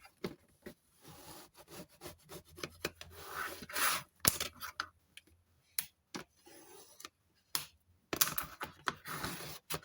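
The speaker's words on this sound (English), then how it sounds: "I'll fold this over and crease." Paper being folded and creased by hand for a handmade gift box: a series of sharp crinkles, rubs and quick scraping presses in irregular bursts, close up and without speech.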